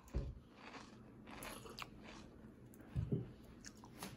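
Close, quiet crunching and chewing of crispy vegetable chips such as pumpkin and okra, with a couple of louder bites amid soft mouth sounds.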